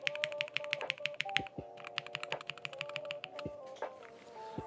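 Rapid mechanical keyboard typing, crisp clacky keystrokes in quick irregular bursts, close up with no voices.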